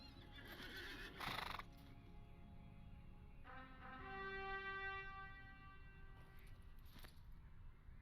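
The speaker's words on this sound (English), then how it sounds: "I'm going to change horses" In a fantasy video game, a horse lets out one long, drawn-out whinny that rises and trails off over a couple of seconds. It is heard alone against a quiet background hiss, with brief clattering bursts before and after.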